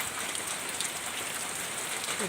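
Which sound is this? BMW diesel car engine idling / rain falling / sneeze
rain falling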